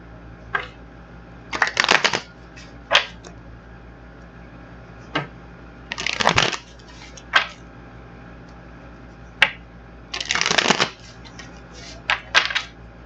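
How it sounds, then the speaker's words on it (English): A deck of tarot cards is shuffled close by in repeated short riffling bursts, separated by single sharp taps and soft handling noises, with no talk. "let's get this other deck shuffled"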